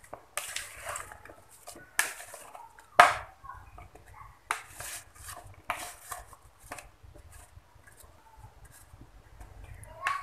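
Watermelon and other cut fruit for a fruit salad tossed in a bowl, giving intermittent wet clattering bursts and spoon knocks against the bowl, separated by quiet gaps.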